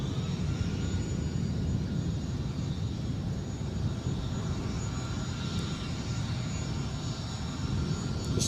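Aircraft in Pride livery at Edinburgh airport, a steady low engine rumble and roar at moderate distance, continuous without pauses, with no talk over it.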